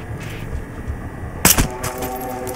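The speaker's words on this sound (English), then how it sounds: "I'm just shooting everybody." Gunfire in the Battlefield Hardline video game: a short burst of shots around the middle, with a few weaker reports after it over low background game noise.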